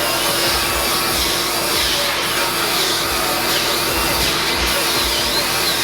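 A power tool trims foam during a Yamaha Superjet stand-up jet ski surf build, giving a steady, loud, continuous grinding whine that runs without a break for the whole stretch.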